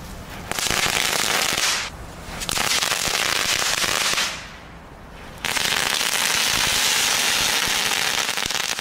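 Dense crackling category 1 consumer fireworks from Aldi in loud sustained bursts, with two brief lulls between volleys, close by and filling the whole stretch.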